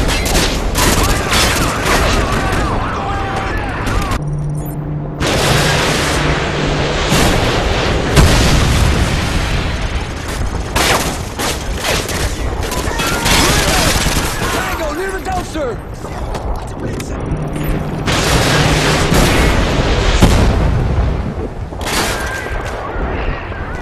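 Call of Duty Modern Warfare 2 video game combat: loud, dense gunfire and booming explosions throughout, with heavy rumbling blasts and mechanical clatter, near and continuous.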